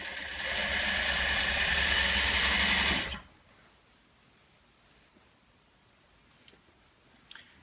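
A sewing machine back stitches fabric for a simple valance, a loud steady mechanical whir with rhythmic needle chatter for about three seconds, then stopping abruptly into near silence with a couple of faint clicks.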